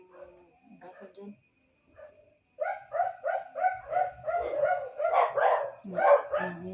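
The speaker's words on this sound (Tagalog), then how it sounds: "Parang tumatahol yung mga aso dito sa kapitbahay mo doon." Several neighbourhood dogs bark in a rapid, repeated series of yelps, fairly close and growing louder, after some quieter sounds at the start, with crickets chirping faintly behind.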